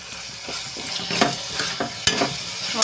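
A mixture frying in a pan with turmeric and chili powder, a steady moderate sizzle broken by scraping stirs and a few sharp utensil taps, close up with no talking.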